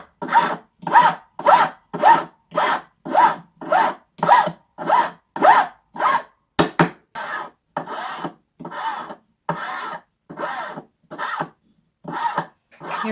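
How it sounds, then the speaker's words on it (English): A jewelry file works a wire into a taper against a grooved bench pin, giving a regular series of about twenty rasping strokes, close and fairly loud, with a brief clatter midway and no talking. "I made a groove into my bench pin to help me file the wire more evenly."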